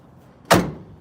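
A car door on a 1973 Jeep Wagoneer slams shut once in a garage, a single close, loud thud with a brief tail, heard alone with no talking.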